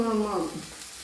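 Broad beans (avarakka) drop into a hot pan and are stirred, a brief burst of sizzle and scraping that fades quickly into a soft hiss.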